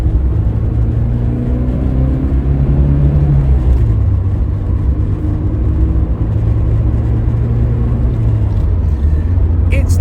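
A 1983 Porsche 924 engine drones loudly from inside the car while driving, its steady low hum shifting pitch as it changes gear and pulls along, close and continuous throughout.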